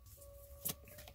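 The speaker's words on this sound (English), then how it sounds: "as these two cards flipped over, as I'm shuffling and talking" Tarot cards are shuffled by hand in a brief, faint riffle with a short burst near the middle over a low steady hum.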